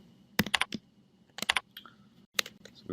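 Bursts of quick key clicks on a computer keyboard while a command is typed in to run a script, three separate flurries of close, crisp taps with short pauses between them and no talking.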